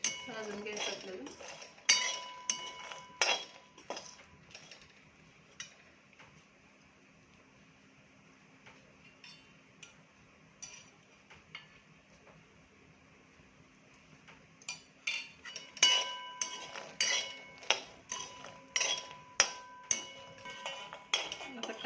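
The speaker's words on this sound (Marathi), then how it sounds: "आता हे काजूला चांगलं भाजून घ्यायचं आपल्याला." Cashews are roasted in a pan for gum laddoos, with a metal spoon scraping and clinking in sharp rapid bursts at the start and end and a quiet low hum in between.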